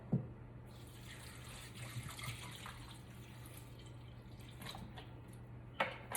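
Water pours into a pot or cup for a lemon, ginger and clove detox tea, a quiet steady trickle with a few soft drips over a low background hum, no voices.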